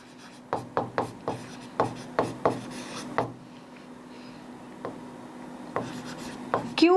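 Chalk or marker strokes on a board during a maths lesson, a quick run of about nine sharp taps and scratches followed by scattered single strokes, close and clear with no talking.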